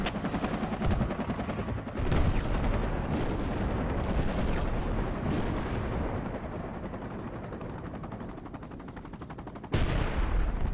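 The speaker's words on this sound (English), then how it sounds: "they're just randomly shooting the bushes with the CAS helo" Helicopter gunfire from a close air support helicopter in the Project Reality military shooter game, a sustained dense rattle of bursts with booming impacts, loud throughout, with a sharp heavy blast near the end.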